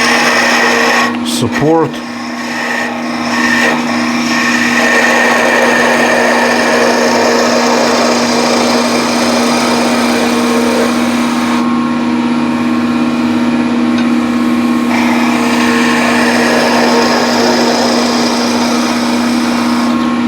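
A wood lathe spinning a spindle blank for a ladle while a skew chisel cuts, a steady high motor whine and hum running continuously, with a brief voice near the start.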